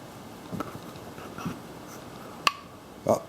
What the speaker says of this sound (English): That is the sound of a jar sealing.